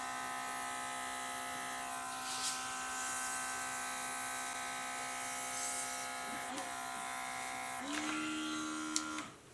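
A cordless airbrush runs with a steady, thin, quiet electric buzz that shifts pitch briefly near the end, like a switch between low and high speed.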